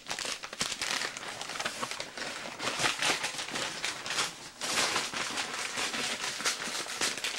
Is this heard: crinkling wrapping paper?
yes